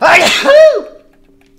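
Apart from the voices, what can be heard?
sneeze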